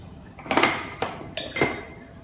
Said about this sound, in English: Now the shallots and the green chilies goes in.